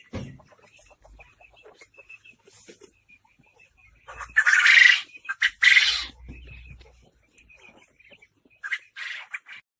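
Quail call on a quail farm in Golaghat, Assam, with scattered short chirps and whistles over a quiet background, broken by a few louder, harsher bursts of calling.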